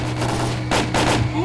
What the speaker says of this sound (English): So I'm gonna shoot them in the back. With an AK.